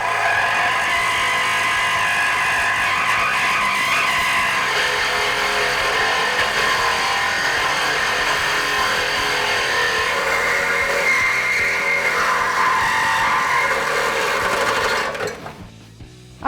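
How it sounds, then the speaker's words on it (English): A reciprocating saw cuts through the exhaust pipe of a 2018-2020 Mustang GT, a loud, continuous, high-pitched buzzing whine with a metallic grinding edge that runs for about fifteen seconds before cutting out abruptly. "we're grabbing our reciprocating saw and we're going to make our cut"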